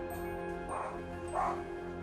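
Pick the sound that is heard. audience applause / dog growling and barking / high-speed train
dog growling and barking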